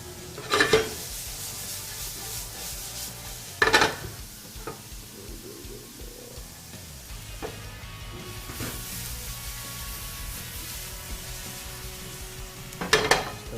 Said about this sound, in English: So I think the pan's hot enough now. Olive oil. Handful of garlic.